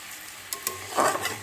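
Prawns frying in a pan, a steady sizzle with a couple of sharp clinks and a louder burst of stirring and spitting oil near the end, close by with no voices.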